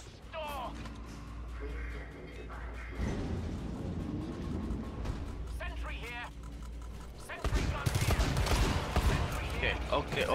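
Gunfire in a video game comes in bursts of rapid shots, growing loud and dense toward the end, mixed with game effects while players talk over it.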